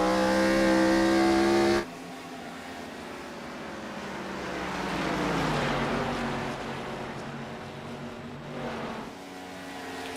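NASCAR Gen 4 Cup race cars in the iRacing game at Rockingham Speedway run the high line near the wall: a steady engine drone cuts off, then a louder broadband roar with rising and falling pitch as cars pass.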